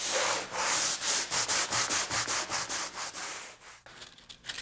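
Hand sander rubbing paint off wood in a rapid run of rhythmic scraping strokes, close and steady, then a few lighter, uneven passes toward the end.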